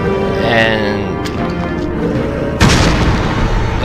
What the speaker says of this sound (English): So there was an explosion.